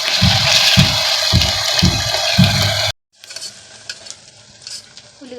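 Chopped onions dropped into hot oil in a pressure cooker for mutton keema, stirred with rhythmic scraping over a loud sizzle, then a quieter steady frying hiss after a brief cut.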